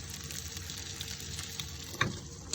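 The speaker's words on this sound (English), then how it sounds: "these canned potatoes are just to die for, and they're just crisped up in the frying pan" Canned potatoes and schnitzel fry in a frying pan in an off-grid container home, giving a steady close sizzle with a few louder crackles and pops.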